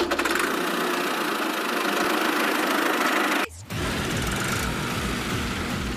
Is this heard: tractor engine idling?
yes